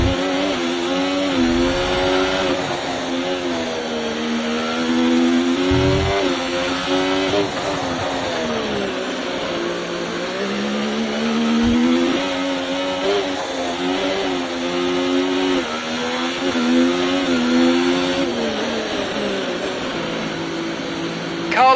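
Formula 1 car engine in the F1 24 racing game at the Australian Grand Prix on a wet track, revving and shifting continuously as the car pulls into the pit stop, loud and steady throughout, with brief radio voice beneath.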